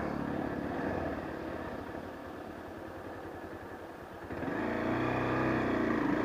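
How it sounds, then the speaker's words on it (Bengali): A Bajaj Pulsar 150 motorcycle runs with a steady, close engine drone that rises in pitch and loudness near the end as it pulls through a gear change. "আজকে দেখাবো পালসারে ফার্স্ট গিয়ারে কত স্পিড ওঠে"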